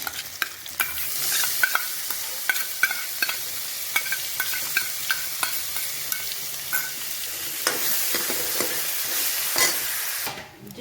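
Sliced onions frying in a pan for stuffed onion sabzi, with a continuous sizzle and a regular run of sharp spatula scrapes and taps against the pan. The sound is close, and no one speaks.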